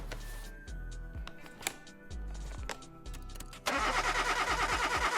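Engine cranking and revving during a compression test in Car Mechanic Simulator 2021, with repeated short starter-like pulses followed by a louder, rapidly pulsing rev toward the end.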